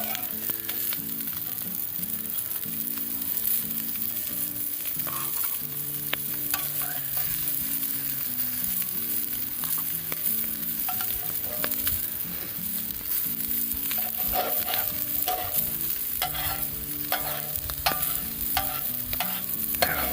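Boiled potatoes are scooped and stirred out of a simmering pan of cooked-down beer on a smoky cookout, with steady sizzling, bubbling and scraping running throughout, close and fairly loud, no one speaking.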